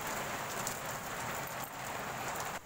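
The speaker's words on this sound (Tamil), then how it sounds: "எங்கள் ஊரில் மழை வருது பாருங்கள்." Steady rain falls outside during cooking in a Tamil home kitchen, a dense, continuous close hiss of drops on surfaces that holds level throughout, then drops slightly in loudness near the end.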